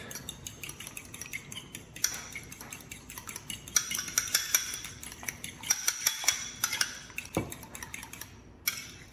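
Eggs being whisked in a bowl with a utensil, a quick rhythmic clinking and scraping against the sides that grows busier in the middle, heard close with no talk.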